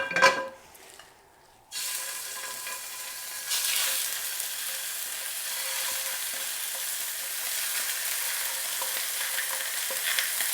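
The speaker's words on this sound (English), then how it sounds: "Whilst my chicken is browning" Steady, broadband sizzling of chicken browning in a hot frying pan, continuous and fairly loud after a brief quieter start, with no talking.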